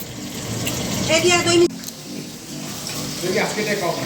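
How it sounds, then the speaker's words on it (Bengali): Dishes being washed at a home kitchen sink under running water, a steady wash of splashing and clatter with people talking over it, while fish fries nearby. "মা সব থালা এখন ধুচ্ছে, ধুয়ে দিয়ে রাখছে"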